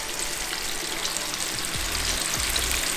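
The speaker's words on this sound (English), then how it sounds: "I'm taking them out of the cooking oil now." Ribs frying in hot cooking oil give a steady, crackling sizzle close by, with a few low clunks near the end as pieces are lifted out of the oil.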